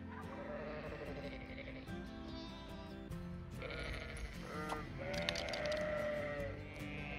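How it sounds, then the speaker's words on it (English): Several sheep bleat over a steady murmur of background noise, wavering calls rising and falling, some close and some farther off. "We got sheep."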